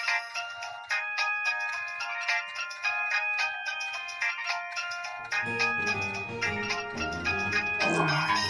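Phone ringtone on a late-night call, a bright looping electronic melody of repeated chiming tones, loud and continuous, with a fuller layered section joining midway.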